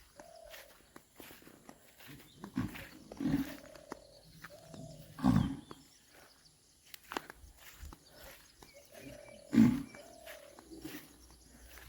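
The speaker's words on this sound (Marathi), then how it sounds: "हा एक आवाज आहे बैलांच्या डिरकण्याचा" Several deep, drawn-out bellows from a bull in Konkan, spaced apart and rising over an outdoor background with faint bird calls and shuffling.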